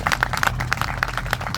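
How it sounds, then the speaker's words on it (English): Audience clapping for a Conservative Party figure at an international students' event in Canada, a brief, moderately loud patter of many hands with scattered sharper claps standing out. "Can you clap for him, please?"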